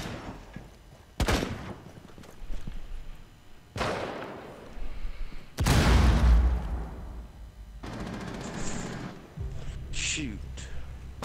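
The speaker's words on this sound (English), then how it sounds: "Sounds like a gunfight's going on." Gunfight in the video game Rainbow Six Siege: several sharp bursts of gunfire and impacts crack out in separate clusters, some loud and close, others more distant, with players talking over the action.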